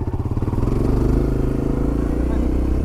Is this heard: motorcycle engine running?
yes